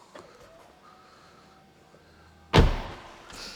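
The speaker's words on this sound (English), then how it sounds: "Now, that's a thunk. That does not half close that door." Rolls-Royce Ghost door swinging shut with a single loud, solid thunk that rings out briefly after a quiet stretch, close by and heard alone.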